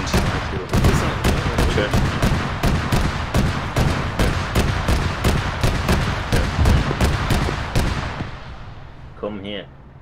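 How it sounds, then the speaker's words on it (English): Rapid gunfire rattles in a video game, a dense run of loud, evenly spaced shots that fades out near the end, with someone talking over it. "He's shooting."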